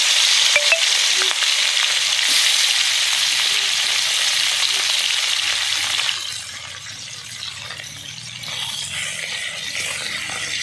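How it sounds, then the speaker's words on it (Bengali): Puti fish fry in hot oil with a loud, steady close-up sizzle that softens to a quieter bubbling after about six seconds. "তো বাকি মাছগুলো আমি ভেজে নিচ্ছি।"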